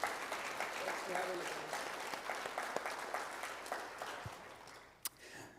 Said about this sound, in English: But let's give Susan a round of applause.